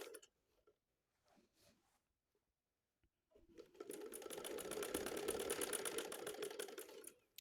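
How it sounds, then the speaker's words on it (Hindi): Sewing machine stitching a pocket onto ladies' pants, a few soft handling taps then a steady, rapid close mechanical whirr running for several seconds alone before stopping. "इसको एक दफ़ा फिर से सिलाई लगा लें ताकि मजबूती से लग जाए"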